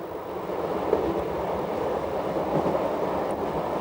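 A Swiss train on the Gotthard railway near Airolo, about to enter the 15-kilometre Gotthard Tunnel, gives a steady, loud rolling rumble with wind-like rushing noise throughout and no talk.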